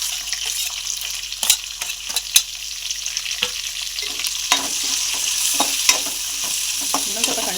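Onion and curry leaves hit hot oil in a pan for an okra and egg stir-fry, raising a loud, close, continuous sizzle marked by scattered pops and clatters from stirring, with no voices.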